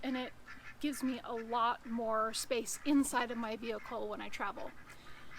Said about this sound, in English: So we have some ducks who are requesting some food.